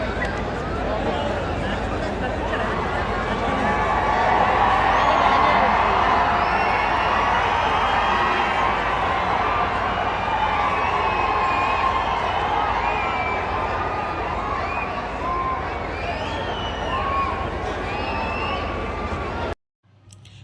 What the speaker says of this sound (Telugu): మనోని ఎంట్రీకి అరిచిన అరుపులు వినిపించాలనే నేను సైలెంట్గా ఉన్నా ఇంతసేపు